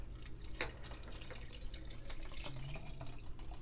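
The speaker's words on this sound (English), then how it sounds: "And I'll pour that into the jar." A foul-smelling potion of fish oil, vinegar and moldy ingredients is poured into a jar, giving a steady trickling, dripping liquid sound at close range, fairly quiet, with no talk.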